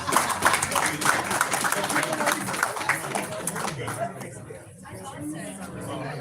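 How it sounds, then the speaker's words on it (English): Audience at a community meeting in Orange, New Jersey, clapping for the council, a moderate wash of applause mixed with chatter that fades after a few seconds into murmuring room noise. "please give them a round of applause"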